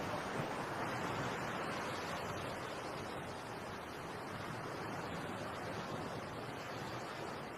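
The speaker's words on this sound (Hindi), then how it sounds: "अपनी आंखें बंद कर समुंदर की लहरों को सुनकर मुझे शांति मिलती है।" Sea waves wash along the shore in a constant broad roar, mixed with wind buffeting, holding a steady level without distinct breaks and with no speech.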